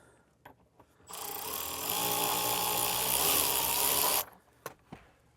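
A power tool with a T30 Torx bit loosening bolts while installing a hidden trailer hitch, a close, loud continuous whir of about three seconds, rising slightly in pitch midway, framed by small clicks and handling noises.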